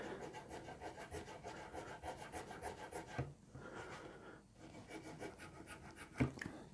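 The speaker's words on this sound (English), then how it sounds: "it's just a case of giving it a rub and getting rid of any kind of fine sanding marks" Fine abrasive rubs back and forth over the frets of a Rickenbacker 620/12 guitar during fret polishing, a close, steady rhythmic rasp with a brief pause in the middle.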